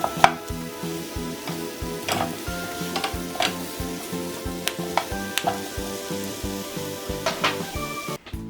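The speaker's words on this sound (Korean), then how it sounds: "저는 오늘 석쇠가 없어서 불에 직접 그슬리는 방법이 아닌 프라이팬을 이용해서 그슬려 주는 방법으로 활용해 보도록 하겠습니다" Vegetables char in a frying pan without a grill, hissing under a steady sizzle while sharp clicks and taps of utensils strike the pan at irregular intervals, close and continuous, with no voices.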